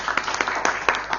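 Audience applause welcoming guests from the Ministry of Health's Safety and Quality Department at a food packaging presentation, a short burst of dense, steady clapping at moderate loudness with no voices.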